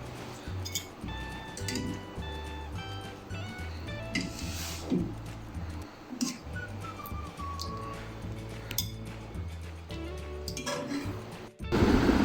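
Utensils clink and tap against a dish while achari mutton curry is served out, scattered metallic clinks and scrapes with a quiet kitchen background.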